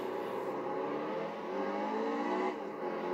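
Race cars roar past in a NASCAR-style racing video game at Chicagoland, a steady, loud engine drone with rising and falling pitch as cars whoosh by, no talking.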